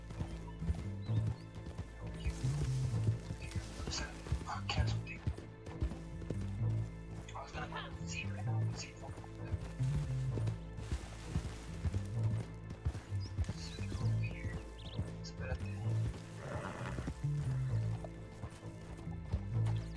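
Horse hooves clip-clopping in a steady repeating gait with an occasional whinny in Red Dead Online, heard under continuous background game music and some talk.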